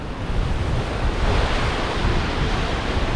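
Ocean waves crash and roar continuously on sharp rocks at open sea in Bermuda, loud and close, with wind buffeting the microphone and no voices.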